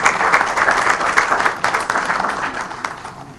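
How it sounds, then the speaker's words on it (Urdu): An audience at a Punjab government IT launch event applauds steadily to welcome the chief guest, Chief Minister Chaudhry Pervaiz Elahi, with dense, sustained clapping from a sizable crowd, close and full for several seconds. "بھرپور تالیوں میں استقبال کیجیے."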